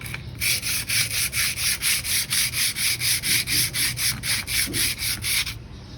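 Rhythmic scratchy sanding of a brake part with sandpaper, quick regular back-and-forth strokes close up, about four per second, no talking.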